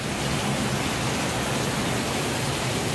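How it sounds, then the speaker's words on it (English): Heavy summer storm rain pours steadily, a dense, even hiss of close downpour with no pauses. "It's pouring."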